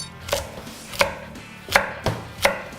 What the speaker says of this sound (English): I'm gonna hack up these veggies.